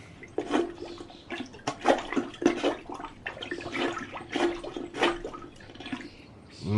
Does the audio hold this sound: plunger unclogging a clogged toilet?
yes